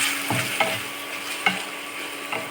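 Green chillies sizzle in hot oil in a pan while a spoon stirs them, with a steady frying hiss and a few distinct scraping strokes, close and alone.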